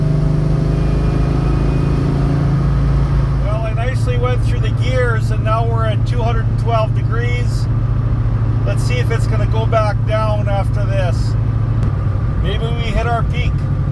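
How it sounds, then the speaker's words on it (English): A Ford Mustang SN95 engine drones steadily and loudly through the whole stretch, holding an even pitch rather than audibly climbing, with someone talking over it for most of the time. "I nicely went through the gears, and now we're at 200"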